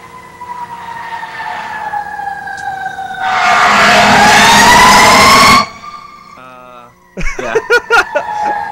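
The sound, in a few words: sirens heard over a Skype call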